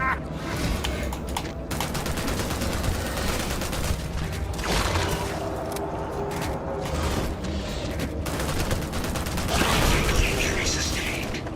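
Rapid gunfire and mechanical clatter in Starfield, sustained and loud across the whole stretch, with bursts of shots and a heavier surge near the end, mixed with in-game voices.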